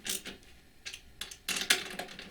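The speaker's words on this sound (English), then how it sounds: "To secure the nut, you need a wrench." A wrench tightening a connector nut during an audio amplifier build: a few short metallic clicks and ratcheting scrapes in uneven bursts, close and fairly loud, with no talking.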